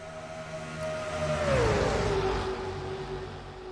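A race car at the Major League Racing clash at Daytona roars past on the final lap, its engine whine swelling and then dropping in pitch as it sweeps by, over a steady background of track noise.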